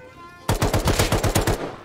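An automatic turret in the survival game Rust rattles off a rapid, loud burst of machine-gun fire, evenly spaced shots chattering for over a second after a quiet start.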